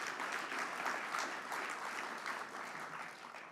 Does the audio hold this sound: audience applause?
yes